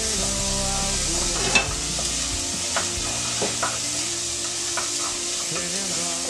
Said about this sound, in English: you're going to add the chopped asparagus, not the tips